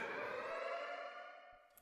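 A synthesized siren sample from a BeepBox chiptune music track: a sustained, buzzy tone that slowly slides downward and fades, fairly quiet, with no voices.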